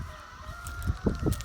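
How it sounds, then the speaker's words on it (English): A rooster clucks and crows in a few short, faint calls at a distance over a steady background hum. "I hear them crowing. The roosters crowing at like 3 o'clock in the morning, 4 o'clock in the morning."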